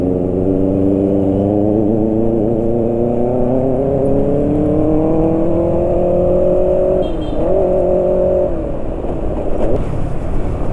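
A motorcycle engine idles steadily after an oil change with Lupromax 4T 10W40, a smooth mid-loud hum that rises gradually in pitch, wobbles briefly as the throttle is blipped near the end, then settles back.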